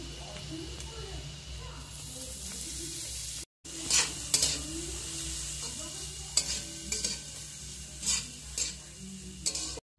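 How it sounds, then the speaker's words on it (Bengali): Chopped onion, garlic and chili frying in white oil in a pan, a steady close sizzle with a spoon stirring and scraping throughout, broken by a brief silence near the middle, with a voice talking quietly underneath. "পেঁয়াজটা হালকা করে আমি ভেজে নিয়েছি"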